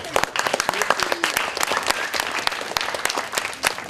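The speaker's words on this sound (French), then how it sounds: "je pense qu'on peut remercier et applaudir tous les jeunes sapeurs-pompiers qui étaient là" A crowd applauds young firefighter cadets after their awareness workshops, with dense, close, steady clapping sustained throughout and a voice speaking over it.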